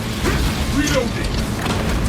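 A weapon reloads in the Space Marine 2 video game with a burst of metallic clacks and ratcheting over dense, rumbling battle noise and game effects.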